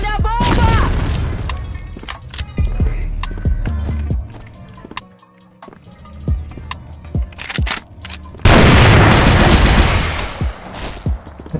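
Rapid video game gunfire cracks in bursts and sharp single shots, with booming impacts, a quiet lull partway through, then a loud sustained barrage.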